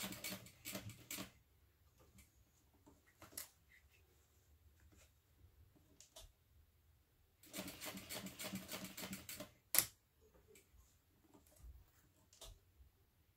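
A sewing machine stitching fabric for an envelope wallet runs in short, close bursts of rapid ticking, stopping and starting between passes with a sharp click partway through.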